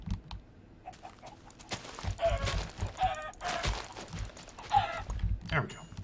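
Chickens cluck in bursts in the video game Minecraft while a player keeps talking over them, the short clucks scattered through the speech.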